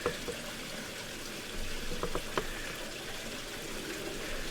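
Water pours into the boiler of a Mamod steam traction engine model, a steady close trickle running through the whole stretch with a few small splashes and knocks.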